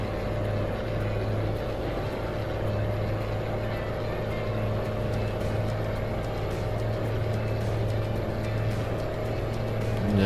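Engine of a Mack MH 600 truck in American Truck Simulator, a steady loud diesel drone with constant low harmonics as the truck cruises along under power, continuous without pauses.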